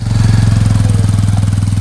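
A motorcycle engine runs steadily close by, a loud, even throbbing pulse with no revving, during a pilgrimage trip to the Sammakka Saralamma shrine at Medaram.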